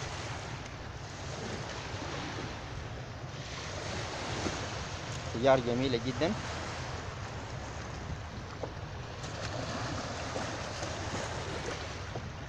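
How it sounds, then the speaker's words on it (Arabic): Waves wash steadily on the river at Sinnar Dam in Sudan, a continuous rushing surf with wind buffeting the microphone, while people talk over it outdoors. "الموج جميل."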